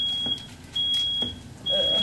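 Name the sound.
smoke alarm beeping while cooking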